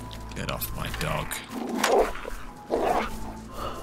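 Dog barking in the DayZ survival video game, two sharp barks about a second apart, heard under ongoing conversational talk.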